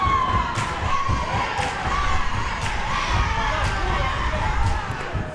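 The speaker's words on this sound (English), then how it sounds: "There's some cheering going up from the LaGuardia contingency" LaGuardia fans cheer and shout from the stands at a women's community college basketball game against Queensborough, a lively crowd roar with sneaker and ball thumps on the court and overlapping voices.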